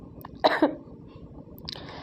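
A couple of quick, close coughs in rapid succession, with a softer throat noise a moment later against a quiet room background.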